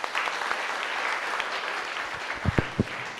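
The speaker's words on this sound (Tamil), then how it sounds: "ஒரு பெரிய கைத்தட்டல் கொடுத்துடலாமா?" A Rotary training camp audience in Punjai Puliyampatti gives a big round of applause: loud, dense clapping throughout, with a few heavier thumps near the end.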